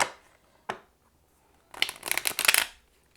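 Crisp riffling of a tarot deck being shuffled, a quick flurry of rapid flutters after a couple of brief taps, close and fairly loud with no talking.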